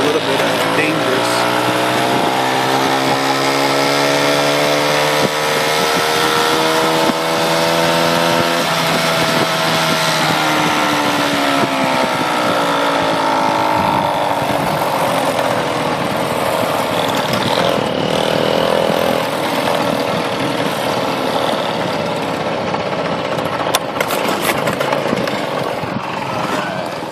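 A 1996 Kinetic TFR moped's small engine runs and idles steadily up close, a loud continuous putter that rises and settles in pitch, with someone talking over it.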